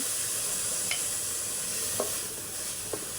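Red amaranth greens fry quietly in a pan, making a soft continuous sizzle with three brief stirring scrapes spread out over the clip and no voices.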